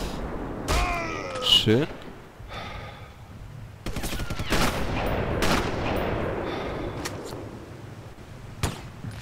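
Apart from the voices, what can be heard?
suppressed sniper rifle shots in Sniper Elite video game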